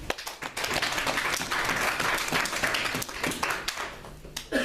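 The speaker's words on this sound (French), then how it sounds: "Acclamons pour Jésus." A church congregation breaks into sustained applause, dense and steady clapping filling the room for several seconds, with a few voices mixed in.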